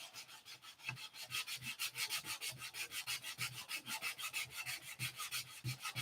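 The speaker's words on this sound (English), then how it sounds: "So I about got all the white paint that I put on today sanded back off" Sandpaper is worked back and forth over wood to strip off white paint, making a rapid, rhythmic rasping with about five strokes a second. It is fairly soft and steady, with no talking.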